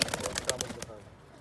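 Pigeons in a coop flap and scuffle close by in a quick burst of wingbeats that fades after about a second, leaving a soft background murmur.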